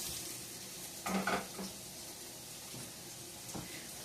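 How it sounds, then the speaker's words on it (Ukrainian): Pork fat crackles and sizzles softly in a frying pan with a little oil, with a brief louder burst of spattering and a light clink of a utensil partway through. "Сало відправляємо на сковорідочку."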